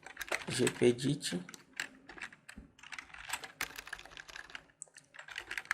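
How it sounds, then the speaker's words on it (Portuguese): Fingers type on a computer keyboard in quick, uneven bursts of close, crisp key clicks, with a voice talking at times over the tapping. "digita então aqui GP no menu iniciar"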